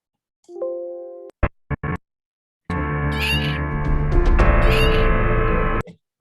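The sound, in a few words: cat meowing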